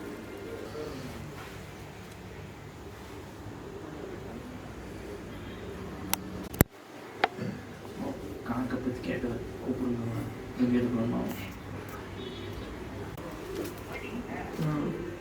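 Racing pigeons coo softly at close range in a loft, low repeated murmurs running beneath steady conversation, with a couple of sharp clicks partway through.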